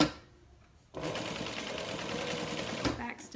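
A sewing machine runs in one steady burst, basting a strap onto a tote bag, its quick even whir close by after a brief quiet moment, with a voice heard around it.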